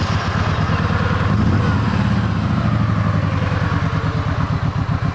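A fuel-injected 2012 Kawasaki Vulcan Nomad motorcycle engine runs steadily at idle, close by, with a continuous low throbbing rumble and a light mechanical clatter throughout.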